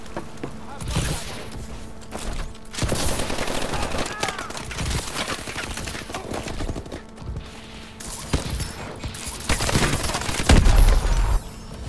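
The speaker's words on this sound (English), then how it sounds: "Never thought I would actually use this gun in a YouTube video." Rapid, heavy gunfire in the video game Call of Duty: Advanced Warfare, Ascendance DLC, with dense volleys of cracking shots over most of the stretch, a brief lull, then more bursts and a loud thump near the end, with talking mixed in.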